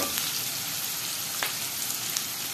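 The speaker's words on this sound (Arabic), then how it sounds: "وانزل بالكبده والكلاوي والطحال. انا ما حطيتش دهون غير الدهون اللي هي ساحت دي بس" Lamb liver, kidneys and spleen fry in their own rendered fat, giving a dense, steady sizzle and crackle with occasional sharper pops, close and continuous, with no voices.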